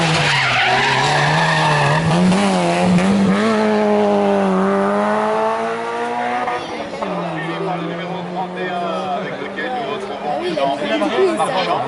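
A 1.9-litre Peugeot 205 GTI race car setting off at a historic hill climb near Salins-les-Bains: a loud, close engine revs up and down in rising and falling sweeps, with people chattering nearby.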